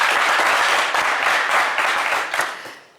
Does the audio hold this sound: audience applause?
yes